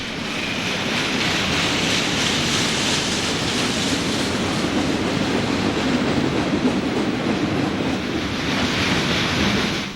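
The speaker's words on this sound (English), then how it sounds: "Refrigerated boxcars passing on the westbound train." A westbound freight train with refrigerated boxcars rolls past in a continuous, loud, steady rumble and rattle that holds for the whole stretch without a break, with no voices over it.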